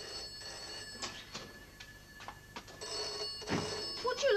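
A telephone bell rings in a sitting room, faint and repeating in short bursts over light background movement.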